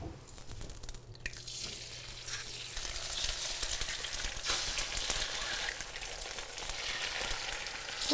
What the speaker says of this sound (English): we're gonna cook more eggs